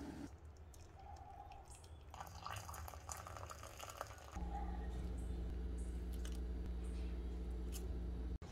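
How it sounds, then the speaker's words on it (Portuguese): Boiling water pours steadily into a vessel for herbal tea, a continuous splashing rush that grows fuller and louder midway, with no talking. "Você vai precisar de 250 ml de água fervendo. Desse jeito, agora é só colocar."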